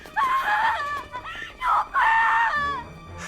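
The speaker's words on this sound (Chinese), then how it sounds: "1楼却传来了凄厉的惨叫声" A shrill scream sound effect for a horror audiobook, two long piercing wails separated by a short break, loud and close, with a brief trailing cry at the end.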